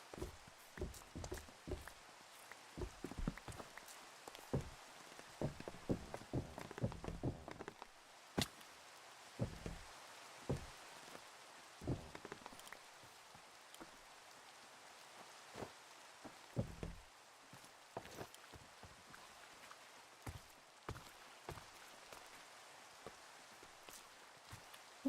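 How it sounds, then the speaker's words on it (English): Steady rain falls in Minecraft, a soft continuous patter with scattered sharper drop and step-like taps, moderately quiet and without speech. "So can we get rid of the rain yet?"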